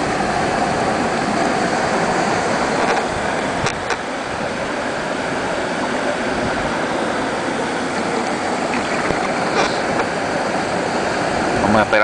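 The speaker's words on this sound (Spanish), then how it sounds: "Esperar a ver si viene otra ola por ahí." Surf washing in at Playa Jobo, a continuous broad rush of breaking waves and churning water up close, loud and steady throughout with occasional faint sounds over it.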